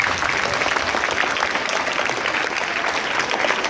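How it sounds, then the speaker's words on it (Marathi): An audience at an Indian constitution quiz event breaks into steady, dense applause that stays loud and unbroken throughout, with no talk over it. "सगळ्यांनी एकदा टाळ्या वाजवायच्या आहेत"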